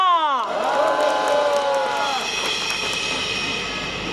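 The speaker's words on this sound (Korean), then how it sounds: "박수 부탁드립니다." Crowd cheering and applauding at an outdoor street-corner prayer rally in Sejong, a loud continuous roar of claps and shouts that swells after a fading announcer's voice and holds steady.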